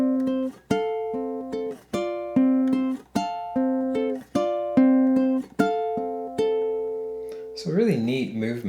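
Ukulele picking the third bar of O Holy Night, a steady pattern of plucked notes in a regular rhythm, followed at the end by a brief bit of speech.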